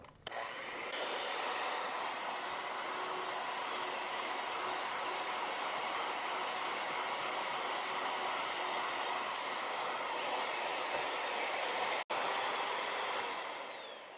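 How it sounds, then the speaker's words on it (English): A stand mixer fitted with a whisk attachment beats maple syrup cream cheese frosting, a loud, steady whirring motor with a high whine that holds evenly before a brief click and then winds down. "I just have a whisk attachment to mine, so I'm going to use it."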